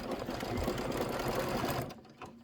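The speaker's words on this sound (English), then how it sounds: "That's your 1/4 inch seam allowance that it just sewed for you." A sewing machine stitches a quarter-inch seam, its fast, steady whirring running close and loud for about two seconds before it stops.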